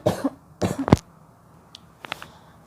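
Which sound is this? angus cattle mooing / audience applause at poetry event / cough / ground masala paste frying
cough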